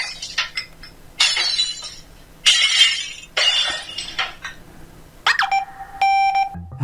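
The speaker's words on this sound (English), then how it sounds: "Glass breaking, scary sound effects," Glass breaking effects from a PopCap phone game demo on an old Skype phone: several separate bright shattering crashes in uneven bursts, ending with a short electronic beeping tone.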